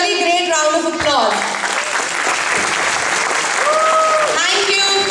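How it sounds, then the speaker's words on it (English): Loud, sustained applause from an audience fills the whole stretch, with a few whoops and cheers rising over the steady clapping. "she really deserves a really great round of applause."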